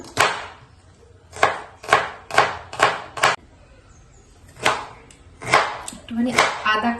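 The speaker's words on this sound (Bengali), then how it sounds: "দুটো পেঁয়াজই হয়ে যাবে মনে হয় বেশি ডিপ করবো না" A knife chops onions on a board in a run of sharp, close knocks: five quick strikes, a pause, then another cluster of cuts that grows faster and busier toward the end.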